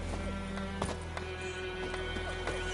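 Roach the horse trotting in The Witcher 3, steady clip-clop hoofbeats in an even rhythm over a constant ambient game bed, with a brief whinny near the start.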